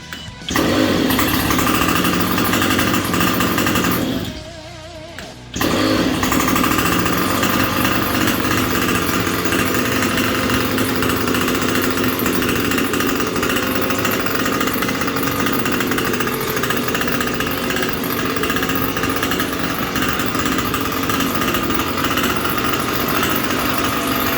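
A small boat motor runs steadily and loudly with a rough, buzzing drone, briefly dipping early on before resuming its constant hum.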